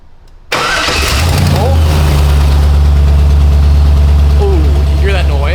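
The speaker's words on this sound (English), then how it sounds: "I'm gonna try to crank it right now, and hopefully it starts this time." An LS1-swapped C3 Corvette, a barn-find car, cranks briefly and then fires up into a loud, rough, rumbling idle that holds steady close by, with a voice talking over it.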